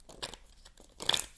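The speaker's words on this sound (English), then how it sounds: "One more shuffle." Tarot cards being shuffled up close, giving a few quiet crisp riffles and papery crinkles in short bursts, the last burst a little louder.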